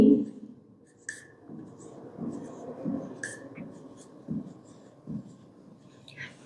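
A pen or marker scratches out a number during a sixth-grade maths lesson, with short stroke bursts in an uneven rhythm and a quiet voice faintly present alongside.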